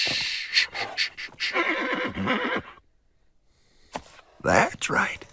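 A horse whinnies loudly in several harsh bursts, followed by a brief quiet pause and then more snorting, whinnying calls close by.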